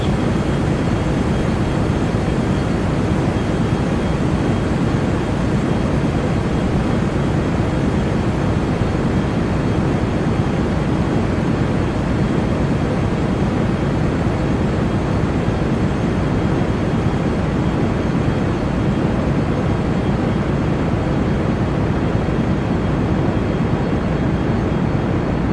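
Steady, dense roaring rumble of rocket engine thrust from a single-stage-to-orbit spaceplane in Kerbal Space Program, filling the whole span at constant loudness with no breaks and no voices.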